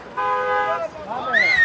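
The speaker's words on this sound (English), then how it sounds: "A lot of people honking on the side of the road." Car horns honk beside a street protest in New York City during a walkout. One sustained horn blares for under a second, then a wavering, rising tone follows, all close and loud in a short burst.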